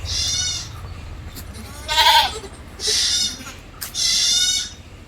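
Good milk-yielding goats bleat loudly and close by, four separate calls spaced roughly a second apart on a farm.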